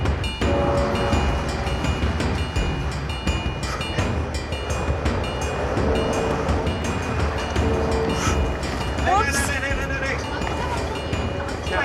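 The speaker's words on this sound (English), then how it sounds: "the train is about to depart" A Vietnamese Reunification Express passenger train departing rumbles loudly and continuously with clattering and metallic squeals, while people talk over the noise.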